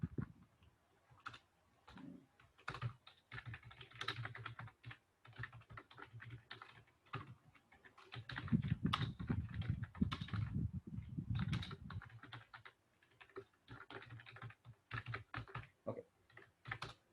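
Java code being typed on a computer keyboard: quiet, close, irregular runs of key clicks with brief pauses, plus a low rumbling background hum in the middle, no talking.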